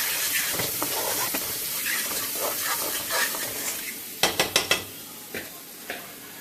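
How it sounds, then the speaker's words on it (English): Rice, peppers and onions stir-fry in vegetable oil in a pan, a steady close sizzle with scraping stirs, then a quick run of sharp clanks from a utensil striking the pan. "So I'm going to add my 2 cups of rice. Mix it in with my little vegetable oil, peppers and onions."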